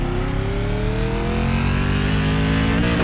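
SK Modified race car with a 2-barrel carburetor at North Wilkesboro in iRacing drones loudly and steadily, its engine pitch climbing gradually as it accelerates.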